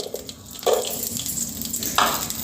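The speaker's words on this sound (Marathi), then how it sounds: "मंद आचेवर बेदाणे भाजून घ्यायचे." Raisins roasting in ghee in a pan over a low flame, a soft continuous sizzle with two brief louder bursts of stirring or spoon contact.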